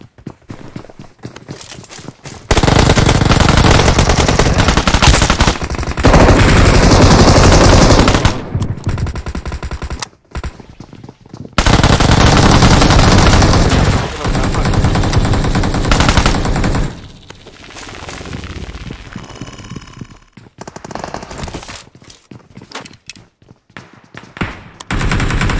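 Machine-gun fire in the mobile game PUBG Mobile comes in loud, rapid bursts separated by brief lulls, with further shots and rattling effects spread across the stretch.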